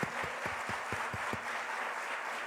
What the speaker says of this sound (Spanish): un fuerte aplauso para nuestro ponente